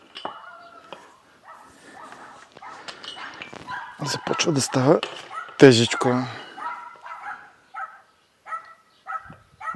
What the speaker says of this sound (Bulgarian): съседските кучета май видяха антената. Ужасни са.